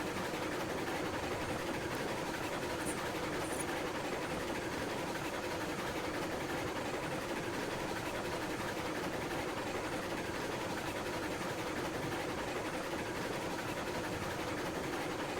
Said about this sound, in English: Nothing but the sound of the chuffing train